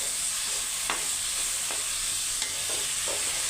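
Pirandai (adamant creeper) sautés in a pan for pickle, making a constant bright sizzle with a few soft stirring taps, close and with no voices.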